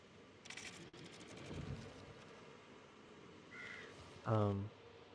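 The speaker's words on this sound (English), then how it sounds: "And that crow is loud." A crow caws loudly once near the end, preceded by outdoor wind rumble and a few faint clicks.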